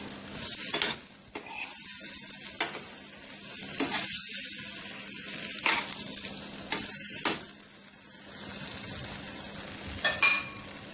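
Chicken luncheon meat sizzles steadily in a frying pan while a utensil stirs and scrapes through it, with several sharp scraping knocks against the pan over a continuous close frying hiss.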